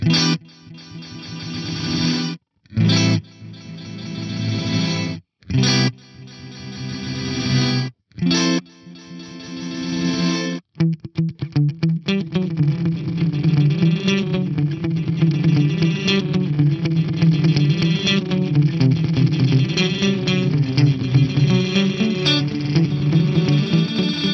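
A Megatap multi-tap delay effect produces dense, blurred echoes. Several short bursts with gaps come first, then a continuous wash of overlapping repeats with heavy distortion and chorus-like smearing. It is loud and sustained, with no talking.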